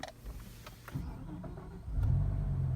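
A BMW E60 M5 with SMG transmission starting up: the starter cranks briefly and the engine catches into a steady, loud idle rumble close by.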